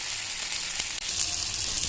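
Seela fish fry in oil in a pan, giving a steady, dense crackling sizzle that stays loud and unbroken throughout, with no one talking.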